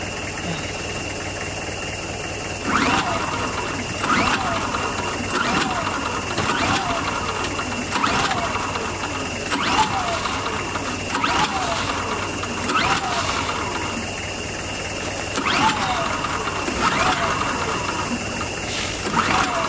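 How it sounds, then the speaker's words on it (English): A petrol generator being cranked over and over, about a dozen evenly spaced pull-start attempts that rattle briefly and die without catching, with a steady insect drone behind, out in the Costa Rican jungle. "can't get the generator fired up, so I'm gonna have to come back in a bit"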